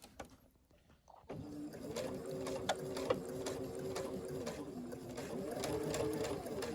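A sewing machine stitches with a twin needle, starting after a second of near-silence into a steady, close mechanical hum with a rapid rhythmic patter that gradually speeds up; a voice is faintly present.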